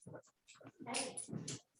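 A dog whimpers and yips in short, close bursts, with whiny cries rising and falling and brief gaps between them.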